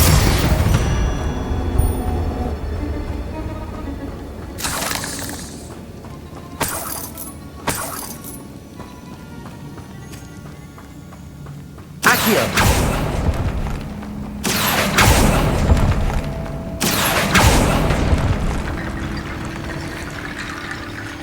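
Confringo blasting spells in the Hogwarts Legacy video game, several loud booming bursts of magical explosions spaced irregularly amid a rumbling game soundscape.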